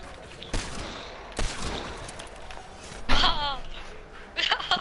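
Dual handgun fire in the Fortnite video game: a few sharp, spaced shots ring out, mixed with other game effects and a brief voice in the background.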